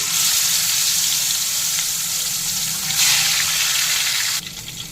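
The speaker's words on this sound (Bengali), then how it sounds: "তেল গরম হয়ে গেছে, মাছগুলোকে নুন হলুদ মাখিয়ে ভেজে তুলে নেব" Boal fish pieces rubbed with salt and turmeric frying in hot mustard oil, a loud continuous close-up hiss and crackle that flares briefly before dropping off near the end.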